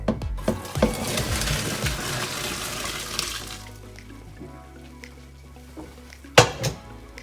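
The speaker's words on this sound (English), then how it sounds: "I'm now going to pour them in a strainer in the sink" Boiled hot dog spaghetti and hot water poured into a strainer in a kitchen sink, a loud rushing splash lasting a few seconds, then quieter dripping and a sharp metallic clank near the end.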